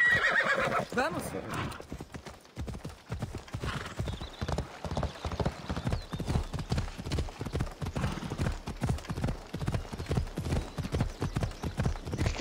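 In Assassin's Creed Odyssey, a horse whinnies loudly at the start, then steady clip-clopping hooves trot on in a regular rhythm, with a voice talking over them.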